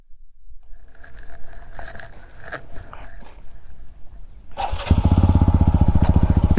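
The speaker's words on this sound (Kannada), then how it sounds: "ಎಕ್ಸಾಸ್ಟ್ ನೋಟ್ ನೋಡಿ ಹೇಗಿದೆ ಇದು." A TVS Apache RTR 200 4V motorcycle with a double-barrel exhaust sits through soft handling noises, then fires up and settles into a loud, close, rapidly throbbing idle, with no talking.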